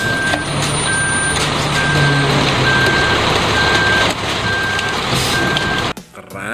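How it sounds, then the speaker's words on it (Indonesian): A toy cement mixer truck plays its sound effects: an evenly spaced electronic reversing beep repeats over a steady engine rumble, then cuts off abruptly near the end. "Mobil truk molen."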